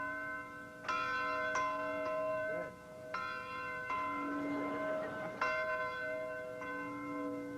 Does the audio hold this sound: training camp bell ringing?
yes